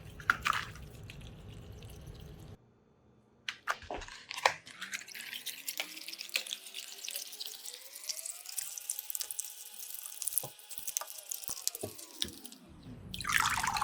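Sea moss is washed in water, with trickling, dripping and sloshing under a running tap, fairly close, with brief splashes throughout.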